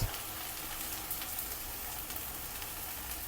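Ginger paste sautéing in a pan while cooking hilsa fish curry, a steady soft sizzle and crackle that holds an even level throughout with no talk over it.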